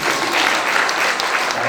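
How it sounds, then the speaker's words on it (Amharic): An audience at an Easter church program claps together in sustained, dense applause. It is loud and even throughout, with no gaps. "አጨብጭቡለት"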